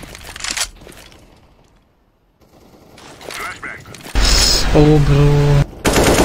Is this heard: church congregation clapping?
no